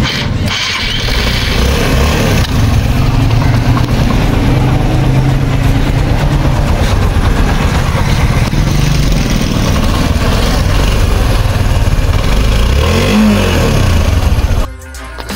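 A Suzuki GR 150 motorcycle with 28,000 km, started by electric start on the first try, runs loudly and steadily close by, a rough continuous rumble that holds for most of the clip before cutting off.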